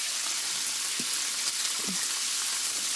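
Asparagus frying in hot olive oil in a pan, a steady, close sizzle that carries evenly throughout with a couple of faint stirring or shifting sounds.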